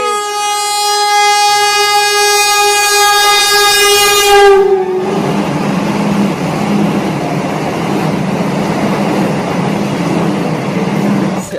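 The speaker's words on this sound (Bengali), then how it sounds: "বন্দে ভারত গাইস" A Vande Bharat express train sounds a loud, sustained horn for about four seconds, then rushes past close by with a dense rumbling roar and faint rail clatter.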